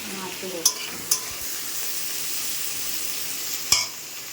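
Onions and ginger fry in a pan with a steady close sizzle, broken by a few sharp spatula scrapes and taps against the pan, with no voices.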